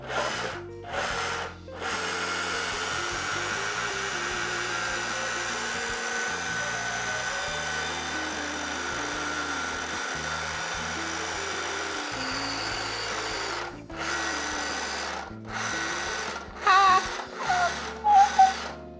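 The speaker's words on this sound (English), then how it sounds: "we're gonna start blending it in our food processor, just slowly. So we're gonna pulse it." Food processor pulsing a jerk chicken marinade, a steady motor whir running almost continuously for about twelve seconds, then broken into several short bursts at the end, fairly close and loud with no talking.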